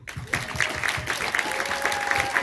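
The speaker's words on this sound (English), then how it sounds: "round of applause to Julien" Premiere audience at a London film screening breaks into steady applause after a call to honour the director, dense clapping sustained throughout with a faint held tone and a few cheers mixed in.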